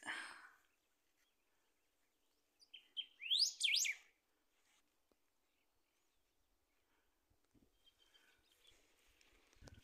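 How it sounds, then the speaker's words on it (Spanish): A short burst of bird chirps and tweets, fairly close but brief, from wild birds in rural Corrientes, Argentina, surrounded by mostly quiet outdoor air with faint scattered rustles. "Bueno, está lleno de pájaros."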